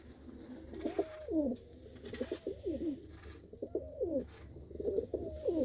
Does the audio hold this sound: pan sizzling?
no